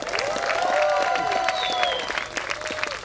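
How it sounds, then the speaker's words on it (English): Audience applause mixed with cheering and whooping voices fills a short burst at a Jamaican film event, lively and continuous throughout. "put your hands together and give a big round of applause to Denisha and the team."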